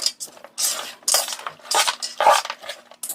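Cat food being stirred with broth in a dish, a spoon clinking and scraping against the bowl in a series of close, irregular metallic strokes with brief pauses between.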